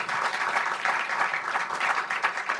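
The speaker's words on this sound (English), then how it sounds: "Can we first have a round of applause for our fabulous panel?" Steady applause from an audience filling a conference room after a panel discussion on school absenteeism, dense and continuous clapping throughout with no voices standing out.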